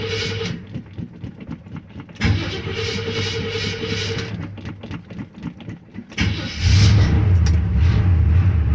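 A 1978 Chevy C10 pickup truck engine cranks and fires up after sitting for a week or two, catching near 2 seconds and settling into a steady idle, then revving louder toward the end, close and without speech.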